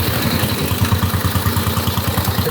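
A 115-year-old motorcycle engine idles steadily and close by, a rapid, even low-pitched thumping pulse running throughout, with a fairly quiet, muffled exhaust note.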